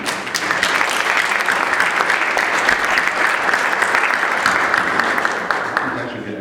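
A room full of people at a conference panel applauds steadily, a dense wash of clapping that holds at an even level throughout before easing slightly at the end.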